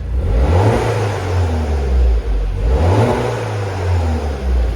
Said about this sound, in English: I'm just going to rev it.